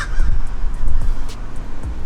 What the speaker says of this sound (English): Got some birds in the back.